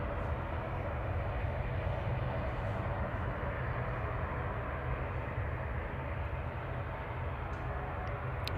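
A Ryanair Boeing 737-800 jet departs on runway 05 left at Manchester Airport, a steady, broad engine roar holding constant throughout at moderate distance, with no voices heard.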